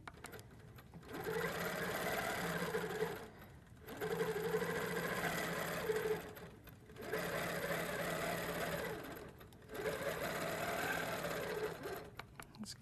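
A Handi Quilter quilting machine stitches freehand without a ruler, running in four steady buzzing bursts of a few seconds each, separated by short pauses, close and clear.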